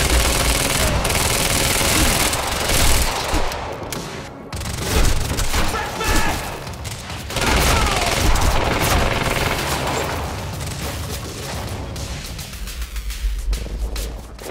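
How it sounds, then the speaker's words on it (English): Heavy, sustained gunfire in Quantum Break, with dense overlapping bursts and booms filling the whole stretch. Voices shout partly through the din. "Open fire!"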